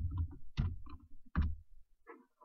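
A search term is typed on a computer keyboard, a short run of irregular, close, muffled key clicks and thumps with brief pauses between them.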